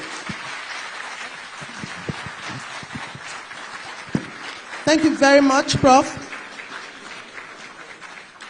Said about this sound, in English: And thank you for that warm applause.